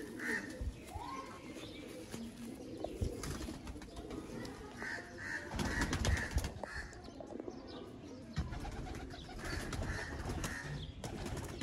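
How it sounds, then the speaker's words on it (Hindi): Golden Dubai pigeons at a breeder's loft coo in repeated soft rolling phrases over a busy background of other birds, chirps and faint rustling. "ये दोस्तों दुबई वाले गोल्डन कबूतर हैं।"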